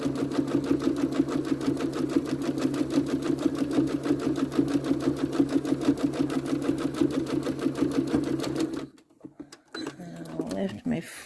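A sewing machine stitches a holiday garland in a fast, steady whirring rhythm for several seconds, then stops abruptly, followed by brief handling noises.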